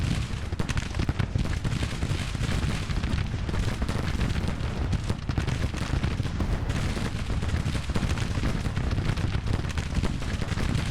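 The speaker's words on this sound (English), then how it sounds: "A ragged volley indeed." Musket volleys roll continuously across a Grand Tactician Civil War battlefield as a dense, ragged crackle of massed shots, loud and unbroken.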